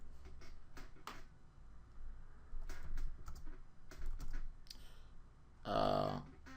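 Someone types text on a computer keyboard in scattered bursts of soft key clicks, with a louder rustling clatter near the end.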